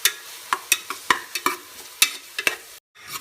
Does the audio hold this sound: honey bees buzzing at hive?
no